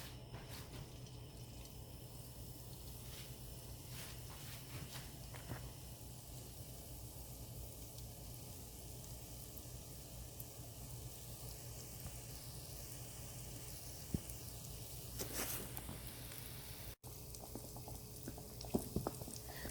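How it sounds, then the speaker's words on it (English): A Mughlai paratha fries in hot oil in a pan over high heat, giving a steady, faint hiss and sizzle throughout, with a few small clicks and pops near the end. "Continue to fry the Mughlai in there."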